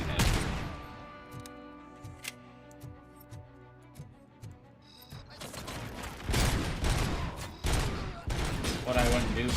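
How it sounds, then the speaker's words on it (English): Rapid gunfire from the RoboCop: Rogue City video game, with sharp shots in short bursts that start sparse and get dense, loud and close, ending in heavy overlapping fire. "nothing just works as good as shooting these guys in the head"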